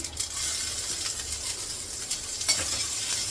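Mustard seeds, cumin and crushed garlic sizzle steadily in hot oil in a home kitchen, a close, continuous bright crackle with small pops and a light stir.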